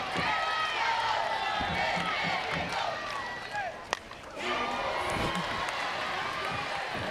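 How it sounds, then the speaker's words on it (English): Stadium crowd at an NCAA Women's World Series softball finals game between Florida State and Oklahoma, a dense, steady roar of cheering and whistles at a tense bases-loaded moment, with a sharp crack midway and a commentator talking over it. "Loudest this crowd has been the entire series."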